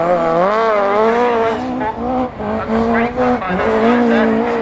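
Class 3 autograss race cars roar past at St Neots, loud engines revving and wavering in pitch as they accelerate and lift, with a commentator's voice faintly under the noise.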